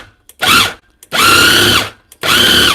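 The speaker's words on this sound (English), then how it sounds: "You blend it really good." A kitchen blender whirs in three loud bursts of about half a second to a second each, separated by brief pauses, harsh and close, while blending a recipe.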